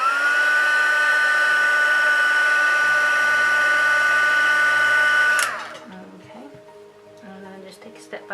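A heat gun blows steadily while heat-setting painted shading on doll legs, a loud even whine that cuts off sharply partway through, followed by quieter handling clicks and taps.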